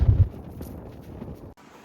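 Wind over a farm field while fertiliser is sprayed, heard as a short rumbling gust buffeting the microphone, loudest at the start and then a steady low whoosh that cuts off abruptly.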